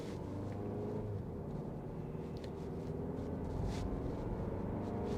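A Kia Sportage 1.6 Turbo accelerating hard, heard from inside as a steady, building engine drone with road rumble, continuous and close for the whole stretch.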